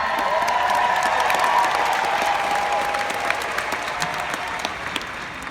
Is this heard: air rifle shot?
no